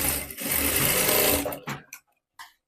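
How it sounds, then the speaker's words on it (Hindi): A sewing machine runs a steady burst of stitching along a folded strip on a blouse, then slows to a few short stops and starts before falling quiet. "फोल्ड करने के बाद आपको 20 सेंटर से यहाँ पे सिलाई लगाते जाना है।"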